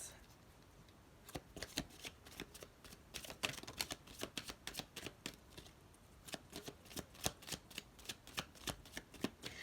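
Tarot cards are shuffled close by in a steady run of soft, rapid riffling flicks and slaps, quiet and continuous, with no talk.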